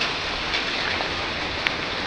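Steady rain falls on a farm during Typhoon Kristine, a dense, even hiss of drops with no pauses and one small sharp tap near the end.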